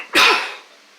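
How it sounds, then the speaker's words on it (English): A single sharp, explosive sneeze bursts out close by, then trails off into a breathy fade. "I have to sneeze"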